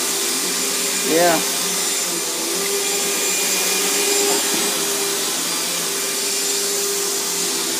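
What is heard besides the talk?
vacuum cleaner running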